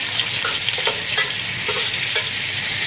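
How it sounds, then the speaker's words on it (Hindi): Steady sizzling of onions and garlic frying in a pan, a continuous bright hiss with occasional soft stirring clicks, close and fairly loud, no talking. "2-3 मिनट में इसको और मज़ीद फ्राई कर लेती हूँ"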